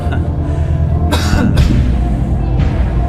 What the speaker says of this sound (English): The coughs came from another contestant sitting behind him